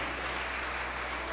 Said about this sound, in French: un gros applaudissement pour Révérend Père Alfred